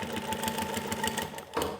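An industrial walking foot sewing machine, Model 1903SX, runs in a rapid, even mechanical chatter of needle strokes, close and steady, with a brief dip before resuming.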